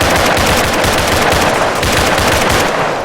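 Soldiers of the 5th Rifles come under sustained automatic gunfire near a mosque: a loud, close, rapid machine-gun rattle with dense overlapping shots that runs without pause for the whole stretch.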